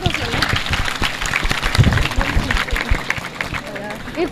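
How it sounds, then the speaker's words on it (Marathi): An audience at a school guidance camp event claps for the dignitaries present, a dense stretch of applause with a murmur of voices mixed in. "उपस्थित मान्यवरांसाठी जोरदार एकदा टाळ्या द्या."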